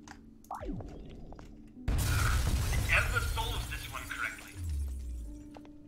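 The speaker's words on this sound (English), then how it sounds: "I need to break the glass somehow" Glass shattering in the video game Gravitas, a sudden loud crash with scattered tinkling fragments that fades over a few seconds, preceded by quieter game sounds and followed by a low rumble.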